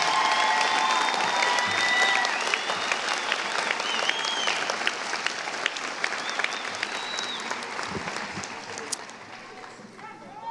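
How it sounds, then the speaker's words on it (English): A large crowd applauds steadily at a high school graduation ceremony, dense clapping filling the space, with occasional cheers and voices mixed in throughout. "Another round of applause for these awesome people"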